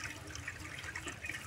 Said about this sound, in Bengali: এটার ভেতরে আগে জল দিতে হবে আমাকে, জল দে এটার ভেতরে।